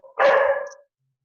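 A single close, loud dog bark, short and sharp, standing alone against silence.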